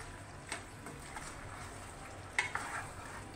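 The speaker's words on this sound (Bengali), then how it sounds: "চিজটা দিয়ে দিলাম এবং ভালো করে মেশাবো, পুরো পাস্তাটা যেন চিজটা মিশে যায়।" Fajita chicken pasta with cheese gets stirred gently in a pan, producing soft scrapes and light clinks of a utensil over a faint low sizzle, quiet and close, with a couple of sharper knocks near the end.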